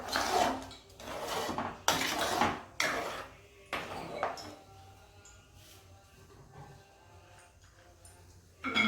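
A spoon clinks and scrapes against a pan while akkara vadasal mixture is stirred, with several distinct metallic taps in the first half, then fading to quiet stirring.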